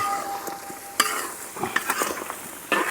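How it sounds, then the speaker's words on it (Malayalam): A spoon stirs Kerala-style kappa biryani of tapioca and spiced masala in a pot, giving quick scraping, clinking strokes over a faint sizzle, close and alone. "നമുക്കൊന്ന് തുറന്നിട്ടൊന്ന് ഇളക്കിയിടാം"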